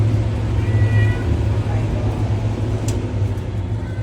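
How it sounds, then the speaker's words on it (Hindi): A cat meows inside a crowded lift carrying several people, its calls steady and prominent over a low mechanical hum while people talk nearby. "ऊपर से एक बिल्ली भी आ गई। सबसे ज़्यादा वजन इस बिल्ली का है।"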